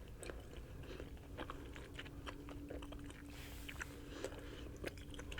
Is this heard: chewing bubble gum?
yes